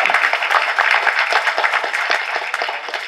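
Dense, steady applause from an audience at a movie audio launch event, many hands clapping together at close range for the whole stretch.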